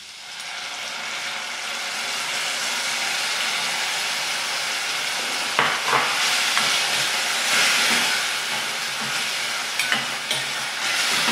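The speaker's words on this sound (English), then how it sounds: "I'll go through and add my coconut milk, which already has the rice flour mixed into it." Coconut milk premixed with rice flour poured into a pan of beetroot curry, setting off a loud, steady sizzle and steamy hiss that swells midway, with brief clinks near the end and no talking.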